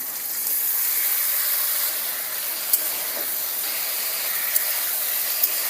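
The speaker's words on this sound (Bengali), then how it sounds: "কড়াইয়ের মধ্যে আমি অল্প পরিমাণে একটু তেল দিয়েছি আর এই থোড়গুলো দিয়ে দেবো" Banana stem pieces fry in a little oil in a kadai, giving a steady loud hiss and sizzle with a few faint clicks, with no talking.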